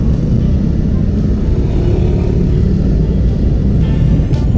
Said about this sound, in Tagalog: inaasahan na talaga natin ang sobrang bigat ng traffic patungo ng Ortigas Avenue